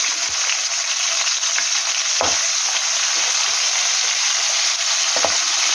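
Peanuts frying in hot oil for a peanut chutney, giving a loud, dense, unbroken crackling sizzle that holds steady throughout, with a few faint utensil taps underneath and no talking.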